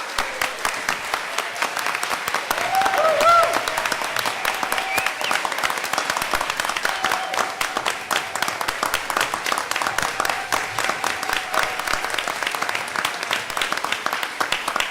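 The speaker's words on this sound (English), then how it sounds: "everybody, please give them a round of applause." A crowd applauds steadily for the whole stretch at a school board meeting, dense rapid clapping with a brief swell near the start and a faint voice beneath.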